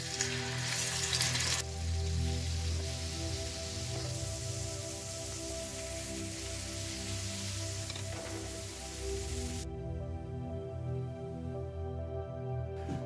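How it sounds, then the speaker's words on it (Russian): Salted chicken breast sizzles in vegetable oil in a preheated frying pan, a steady close hiss and crackle that runs unbroken throughout and turns duller and softer near the end. "Куриную грудку я предварительно только посолил и начинаю ее обжаривать."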